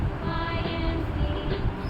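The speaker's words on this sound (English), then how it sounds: "T for train" A train rumbles steadily and fairly loud for a couple of seconds, a continuous rolling rail noise with no voices.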